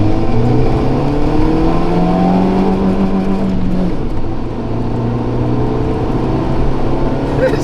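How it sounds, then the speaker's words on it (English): A Honda car accelerates hard up a highway on-ramp with its engine droning loudly inside the cabin, pitch climbing steadily through the gears over constant road roar. "Let's see how quick this baby accelerates."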